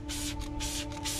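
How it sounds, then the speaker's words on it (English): Three bursts of hissing spray from a hand sprayer applying car cleaning product outdoors in wind, each about a quarter second, close by over a faint steady hum. "I'm spraying it on heavy."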